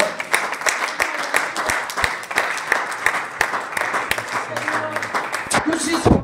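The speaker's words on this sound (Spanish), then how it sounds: "Denle una ofrenda de palmas al Señor." A church congregation claps together in a dense, steady round of applause, with a voice speaking over it near the end.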